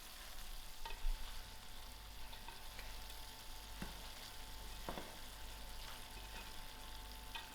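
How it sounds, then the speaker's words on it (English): Lamb mince and cauliflower curry frying in a pan while being stirred, a steady soft sizzle with a few light scraping knocks of the spoon, fairly quiet and close, no talking. "Now I'm ready to give the curry a good mix."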